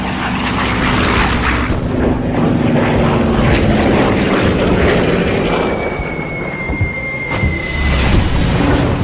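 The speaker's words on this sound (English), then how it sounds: "he yanks back on the stick, pulling out in a crushing 9G climb" A dive bomber pulls out of its dive in a hard climb, a loud, sustained engine roar with a rising whine that swells and surges near its end.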